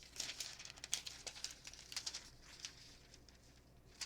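A sheet of gold deco foil handled at close range, giving soft, irregular crinkles and crackles in quick bursts that taper off toward the end, with no talk.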